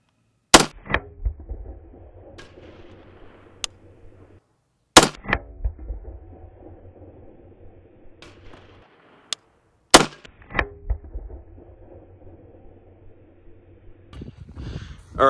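Three loud, sharp gunshot bursts strike a steel body armor plate, each a hard crack with a short ringing metallic tail, spaced about five seconds apart with faint rattling between.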